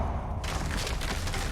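Confringo blasting spell explosion in a Harry Potter video game, a sudden loud broadband burst that erupts after a brief lead-in and keeps rumbling and crackling for over a second.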